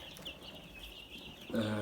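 Soft, continuous peeping of many nine-day-old Lohmann Brown chicks fills the background, with a brief louder stretch near the end that may include a voice.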